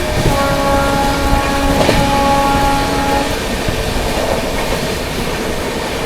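A Shatabdi Express running alongside and overtaking the Sealdah Rajdhani at sunrise, with a steady, loud rumble of wheels and carriages, a sustained horn-like tonal drone through the first half, and no talking.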